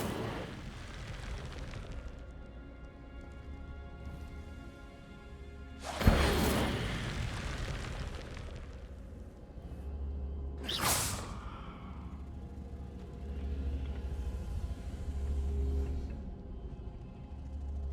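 Incendio fire spell cast in a Hogwarts video game, two sharp whooshing bursts of flame a few seconds apart over a low ambient hum and soft background game music.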